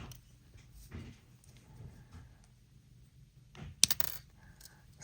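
Snipping bare 22 gauge copper wire for a wire-wrapped pendant: a quiet room with faint handling rustle, then a single crisp metallic snip near the end, followed by a light clink.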